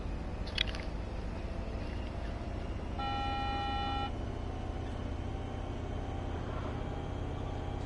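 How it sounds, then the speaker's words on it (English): A heavy city bus in Bus Simulator 21 hums with a steady low engine rumble that swells slightly midway, while a faint electronic beep tone sounds briefly alongside it. "listen to that engine rev"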